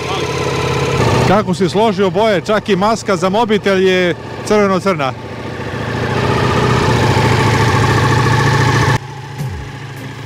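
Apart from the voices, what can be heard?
motorcycle engine idling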